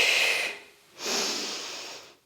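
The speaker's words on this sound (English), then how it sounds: "Exhale and inhale" Two long airy breaths, an exhale then an inhale, close and fairly quiet with a short gap between them, during a floor Pilates workout done without a reformer.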